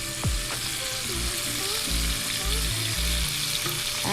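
Food frying in a pan at medium heat sizzles steadily and close by, with a few clinks and scrapes of a utensil through the hiss.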